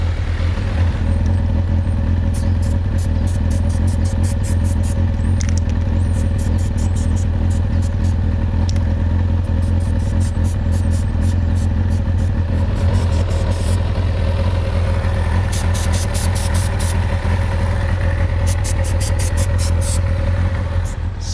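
A motorbike engine runs on a stand without tanks fitted, idling at a loud, steady, unbroken pace, with a deep low rumble and a faint rapid ticking layered on top the whole time.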